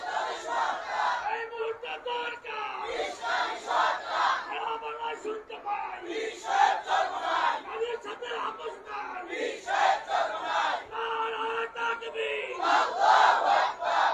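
A large crowd at an outdoor religious gathering in Mohammadpur, Dhaka, chants a slogan in loud, rhythmic bursts, voices rising and falling together in repeated waves throughout.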